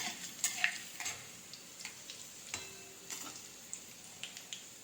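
Crushed shallots frying in oil in a pan as a curry is made, giving a faint, steady sizzle with scattered light ticks and stirring scrapes close by.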